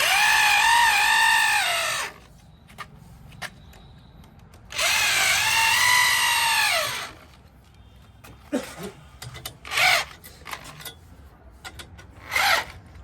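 A power drill-driver tightens a DTH satellite dish antenna bracket, giving two long, loud whirring bursts with a rising and falling whine, each about two seconds. Scattered knocks and brief rattles of the fitting follow.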